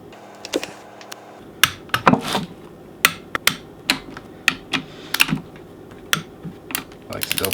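A torque wrench clicks as transmission bolts are tightened to 14 foot-pounds during manual transmission reassembly, making a string of sharp, close clicks in an irregular rhythm.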